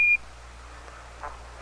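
Apollo 11 lunar module 1201 program alarm during the 1969 moon landing descent: two short electronic beep tones, one at the start and one at the end, separated by quiet radio hiss.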